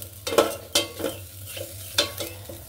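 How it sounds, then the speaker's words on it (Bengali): Dried fish (shutki) is turned in a pan, with several distinct scraping stir strokes at an uneven rhythm over a faint sizzle, close by and with no talking. "আমি শুটকি মাছটা একটু ভেজে নিচ্ছি।"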